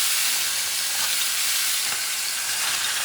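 Pork loin sizzles on a cast iron griddle with a loud, dense, continuous frying hiss, steady and close with no voices.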